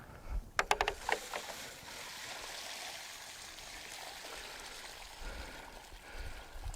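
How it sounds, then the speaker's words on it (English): Water poured from a container onto soil around a newly planted tree, a steady trickling gurgle after a few sharp knocks at the start, close and moderately loud. "we're going to water the tree in"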